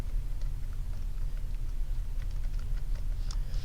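Fingers tap quickly on a computer keyboard in a loose, uneven patter of light clicks over a low background hum, with no speech.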